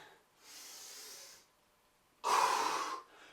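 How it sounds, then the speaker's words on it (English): Two nasal breaths during a lower-body calisthenics workout: a softer, longer inhale through the nose, then a sharper, louder snorting breath, close and quiet with silence between. "Big breath through the nose, nasal breathing."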